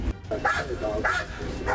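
Police dog barking during a tense roadside arrest, with sharp yips and barks in quick bursts close by, mixed with shouting voices.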